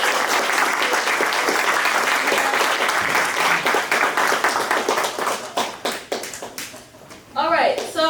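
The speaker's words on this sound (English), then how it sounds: "let's just give another quick round of applause for our amazing speakers" Audience applause rings out for the speakers at a Latinx in STEM speaker series event, a dense, steady round of clapping that thins and tapers toward the end as a voice begins speaking over the last moments.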